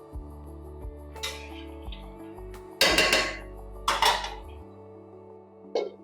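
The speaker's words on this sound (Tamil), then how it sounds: "இப்போ தட்டை வச்சு மூடி வச்சிடலாம்." A metal plate is set over a cooking pan of anchovy thokku, giving several sharp clanks and clinks of metal against metal with quiet gaps between them.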